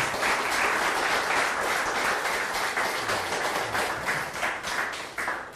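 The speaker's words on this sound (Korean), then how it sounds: "큰 박수 다시 한번 부탁드리겠습니다." Applause fills a party office event in Incheon for a presidential candidate's visit: a dense, continuous crowd clapping at full strength that begins to thin near the end.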